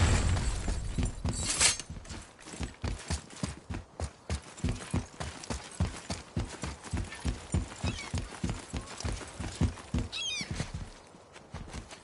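A horse in God of War clip-clops at a steady walking rhythm, its hooves landing in even, distinct beats over a faint background. Near the end there is a brief whinny-like sound before the hoofbeats fade.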